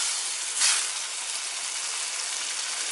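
Jaggery syrup boils in a pan while being made into Kerala-style mango pickle, giving off a steady, close sizzling hiss with a brief louder surge near the start and no talking.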